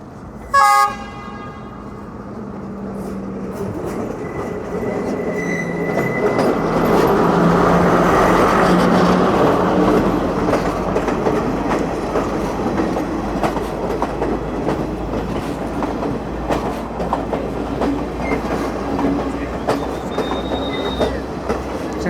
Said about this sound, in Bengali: এখন ব্রিজ দিয়ে একটি ট্রেন পার হবে দেখেন একটি ট্রেন আসতেছে